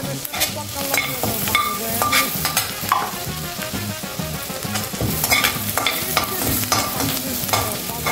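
Chopped garlic and chili flakes fry in butter in a pan, a steady crackling sizzle broken by repeated scraping stirs of a spatula, close and unaccompanied by talk.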